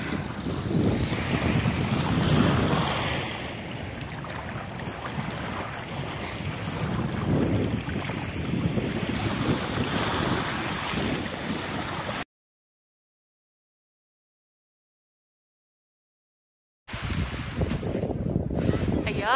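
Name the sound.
ocean waves heard from a boat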